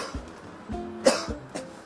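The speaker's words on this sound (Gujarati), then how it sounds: "પપ્પા પપ્પા ઉધરસ ખાય છે." A man coughs over a cheap mobile phone, a series of about five short, thin, phone-filtered coughs in a broken rhythm, one sharper than the rest, heard alone.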